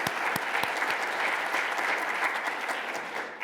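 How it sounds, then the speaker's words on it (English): Audience applause at the close of lightning talks at a space collaboration symposium, a steady, dense clapping from a full room that fades slightly near the end. "I'd just like to say one more round of applause for our fantastic and timely"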